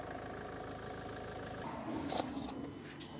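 A Land Rover Freelander 2 with fault lights on idles steadily, a low, even engine hum that fades partway through into quieter background noise with a few light clicks.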